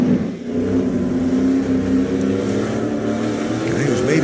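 Race cars in the SRX Series roar around the dirt track at Lucas Oil Speedway, a continuous, fairly loud engine drone with shifting pitch as the cars pass.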